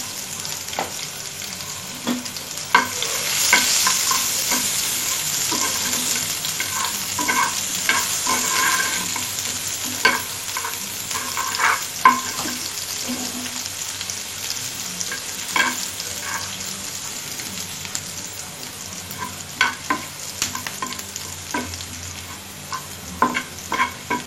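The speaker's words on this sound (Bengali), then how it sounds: "এবার এর ভিতরে আমি 1 কেজি পরিমাণ পেঁয়াজ কেটে দেব" About a kilogram of sliced onions frying in oil in a pan used for catfish, a loud continuous close sizzle with repeated spoon scrapes and clacks, no talking.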